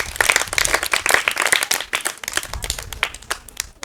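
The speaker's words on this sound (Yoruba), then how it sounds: "ẹ pàtẹ́wọ́ fún un" An audience clapping in a burst of applause, many hands striking irregularly, loud at first and thinning toward the end, with no speech over it.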